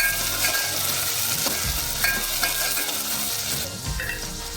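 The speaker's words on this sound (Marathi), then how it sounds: "1 मोठं टमॅटो घेतले बारीक चिरलेलं, ते घालूया." Finely chopped tomato dropped into a hot pan with curry leaves and stirred, a strong steady sizzle with soft scraping stir strokes and faint utensil clinks, close by and without talk.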